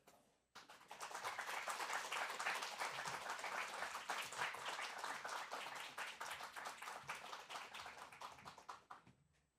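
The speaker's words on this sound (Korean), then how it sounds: "우리 선교사님 올라오셔서 말씀 전해주실 때 우리 뜨거운 박수로서 환영해 주셨으면 좋겠습니다" A church congregation bursts into warm applause to welcome a missionary, with many hands clapping together for several seconds, steady and full before tapering off, at a distance and fairly quiet.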